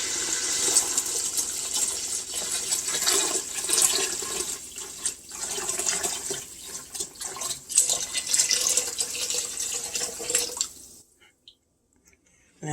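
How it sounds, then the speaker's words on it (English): Broth pours and splashes into a pot of browned meat for Olive Garden-style zuppa toscana, a close, uneven liquid gush with sizzling spatter that cuts off abruptly into near silence. "Okay, guys, so the meat is pretty much brown, so now I'm going to put the broth in it."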